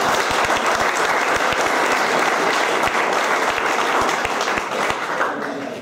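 Applause for a fire brigade team at a firefighting competition prize-giving in Zegveld, a dense, sustained burst of crowd clapping that stays loud throughout and begins to fade at the very end.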